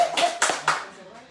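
An audience at a live comedy show breaks into a short burst of applause, with three or four quick waves of clapping that fade within about a second, close and fairly loud.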